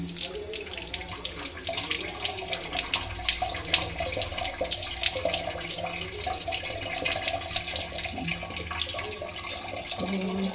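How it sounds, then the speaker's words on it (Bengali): Coriander leaves being washed under a running tap, a steady close splash of water with irregular spatters as the leaves are handled in the stream. "ধনিয়া পাতাটা ধুয়ে নিচ্ছি ডালে দেওয়ার জন্য"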